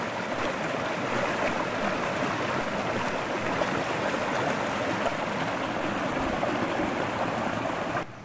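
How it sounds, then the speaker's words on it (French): A fast-flowing forest torrent in the Ardennes rushes at dawn, a dense, constant broadband roar of water that stays steady and fairly close throughout. "Regardez-moi le débit qu'il y a là-bas. Ça, c'est quelque chose. Ça y va. Ça y va, les copains, c'est un vrai torrent."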